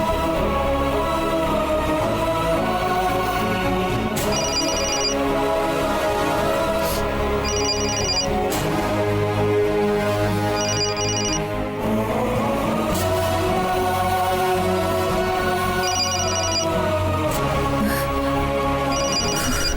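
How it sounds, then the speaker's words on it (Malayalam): A mobile phone ringtone plays continuously and loudly throughout a Malayalam TV serial scene, a repeating musical melody with steady beeping accents at regular intervals and no talk over it. "ഫോൺ എടുക്ക് സത്യ."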